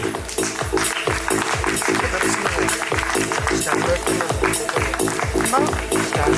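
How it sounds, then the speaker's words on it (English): Steady, rhythmic clapping from an audience at an HR and future technology summit in India, cheering on the winners as they walk up, loud and sustained throughout. "Let's keep the claps going until they make it"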